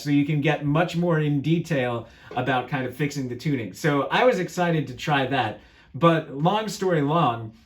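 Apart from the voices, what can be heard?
No everyday noises stand out.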